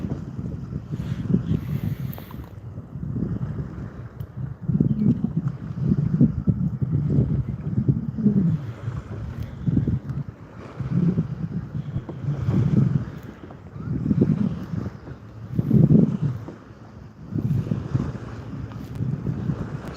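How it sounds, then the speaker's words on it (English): Lake waves wash against a small fishing boat in rhythmic, repeated low surges every second or two, heavily buffeted by wind noise on the microphone, with no talk. "Getting washed up in the waves now."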